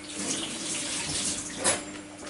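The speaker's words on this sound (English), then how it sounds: "Just wash the banana." A banana is rinsed under running tap water in a kitchen while a raw vegan muesli is being made. The steady, moderate splash is close by, with a brief louder surge near the end and no talking.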